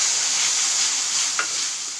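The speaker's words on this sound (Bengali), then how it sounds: "সঙ্গে অল্প রসুনগুলো ভাজা ভাজা হয়ে গেলে" Garlic fries in hot oil with a dense, even sizzle that holds throughout, and one brief stir stands out near the end.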